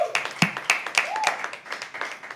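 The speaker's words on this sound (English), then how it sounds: "Can we please have a huge round of applause for the host" Crowd applause for the host at a live poetry open mic, dense clapping that swells in several pulses, a brief voice-like tone heard under it.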